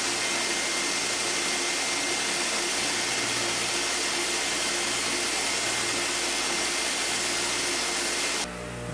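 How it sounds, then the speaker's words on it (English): A vacuum cleaner hooked to a blast cabinet for grinding dust roars with a loud, steady motor whine and broadband hiss, unchanging for several seconds before cutting down abruptly at the end. "Put it on a vacuum cleaner."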